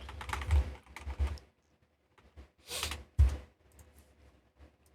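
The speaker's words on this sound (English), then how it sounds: "Oh, I should just use my keyboard." Typing on a computer keyboard while adjusting a Garry's Mod scene: short bursts of close, clattery keystrokes separated by pauses, with no talk.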